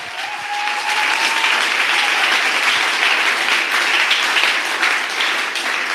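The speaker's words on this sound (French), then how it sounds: "acclamons, acclamons pour Jésus." A church congregation applauds for Jesus, steady dense clapping from a large crowd that fills the whole stretch at an even, loud level without letting up.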